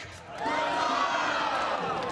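A crowd at a buhurt armoured combat tournament swells into cheering and whooping for a team, a broad roar of many voices rising after a brief lull and holding loudly to the end.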